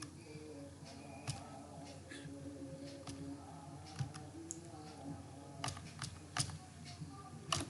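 A user ID is entered on a computer keyboard as a scattering of faint, irregular key clicks over a low background hum, with some pauses between strokes.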